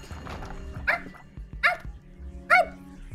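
Three sharp, close dog barks sound at steady intervals, each short and loud over a quiet, low background hum.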